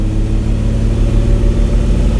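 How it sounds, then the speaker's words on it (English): Steady low droning hum from an Infiniti car's exhaust, a constant close engine drone with a rhythmic low pulse throughout and no talking. "It's got to be an exhaust drone."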